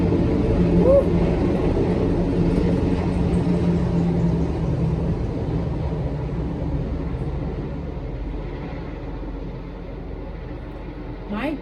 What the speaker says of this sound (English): My goodness, that helicopter is really flying low.